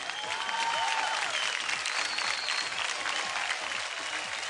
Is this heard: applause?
yes